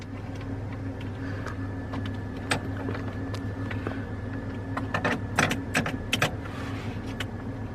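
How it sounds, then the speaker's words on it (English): A ratchet works on the steering column of a Ford F-150 pickup during an ignition switch replacement, giving a run of quick metallic clicks and ticks close by, with a few sharper clinks over a low steady hum. "let's get our ratchet up in there"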